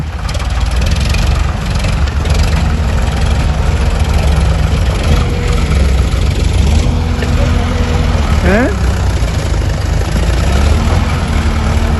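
A steady low tractor engine rumble runs throughout, idling and close by in a poplar field being cleared of roots, with people talking over it.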